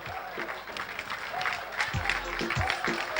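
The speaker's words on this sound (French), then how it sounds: "Des acclamations pour les services du gouverneur" Audience at a ceremony applauds with steady clapping, joined by louder voices and some cheering, while a speaker talks over the crowd.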